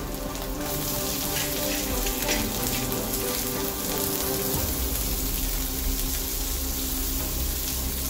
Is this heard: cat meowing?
no